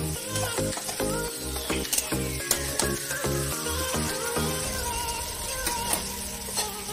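Green peas being stirred into a spice masala with a spatula over a low flame, a soft sizzle under repeated scrapes and clinks of the spatula against the pan, with a tonal sweep audible in the background.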